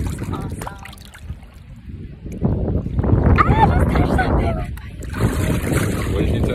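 Strong wind gusting over choppy coastal water in Turks and Caicos, a broad rushing roar that swells louder midway and stays steady, with some voices faintly underneath.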